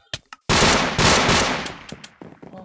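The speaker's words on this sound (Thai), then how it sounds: "ใครยิงปืนเล่น" Gunfire in the video game Minecraft: a few short taps, then a loud burst of rapid automatic gunfire lasting about two seconds, followed by a few scattered echoing shots fading out.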